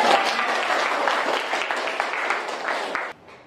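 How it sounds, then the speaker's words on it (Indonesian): A class of students claps hands together in a classroom during a school dance lesson, a dense, steady round of clapping that stops abruptly near the end. "Ya, tepuk tangan."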